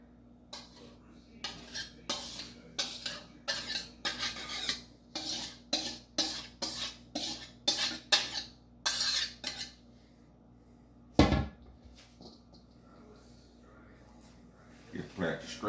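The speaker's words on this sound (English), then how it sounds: "Just plastic scraper so I can get the rest of mine out." A plastic scraper scrapes dressing out of a bowl in a run of rhythmic, close scraping and knocking strokes, followed by a single sharp clunk and a quieter pause.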